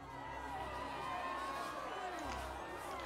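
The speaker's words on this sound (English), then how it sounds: "The mob is outraged." Outraged mob from the video game The Life and Suffering of Sir Brante, a dense, steady crowd roar with overlapping shouts and chatter at a moderate level, continuous for a few seconds.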